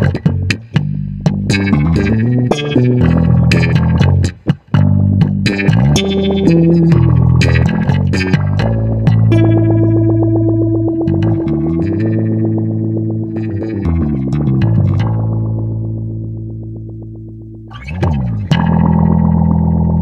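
A bass guitar plays notes and slides through a Soundblox 2 Orbital Modulator pedal's warbling, distorted modulation effect, with sustained held tones and wobbling, shimmering highs.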